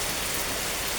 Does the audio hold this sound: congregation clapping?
no